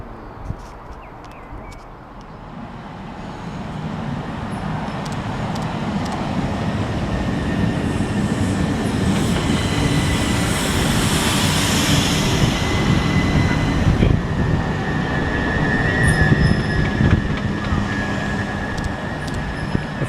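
A train rolls over a flyover near Ashford, a steady broad roar that builds and stays loud and close for most of the stretch, with a brief sirenlike tone riding over it near the end.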